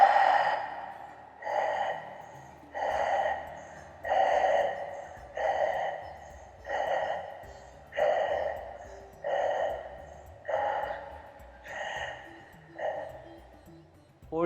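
Deep, forceful breaths repeat in a slow, steady rhythm while a person holds the yoga lion pose, about ten close exhalations evenly spaced and heard alone without talk.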